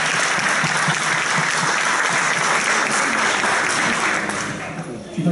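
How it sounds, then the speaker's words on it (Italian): An audience at a national political assembly in Rome bursts into sustained, loud applause, a thick continuous roar of clapping that carries on throughout before tailing off right at the end. "Ci facciamo questo applauso perché ce lo meritiamo."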